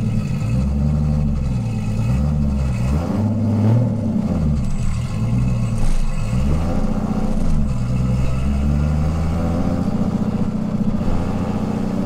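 A Volkswagen Golf engine running an EMU Black engine control unit revs with rising and falling pitch, then pulls away steadily, loud and close, with no talking.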